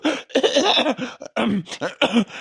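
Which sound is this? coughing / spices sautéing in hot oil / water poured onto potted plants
coughing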